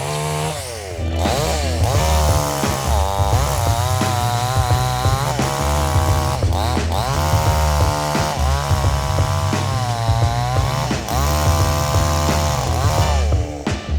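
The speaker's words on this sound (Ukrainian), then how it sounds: "Ніколи не заводьте так пилу." A petrol chainsaw roars loudly and steadily, its engine revving up and down in repeated surges with no pauses.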